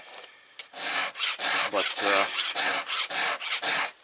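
A hand file rasps across a chainsaw chain during routine maintenance, steady rhythmic strokes, about a dozen close, loud scraping passes, with a brief spoken word at the start.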